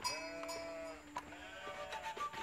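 Sheep bleat in an Age of Empires match, a few short wavering bleats in quick succession, moderately loud and clear with no talk over them.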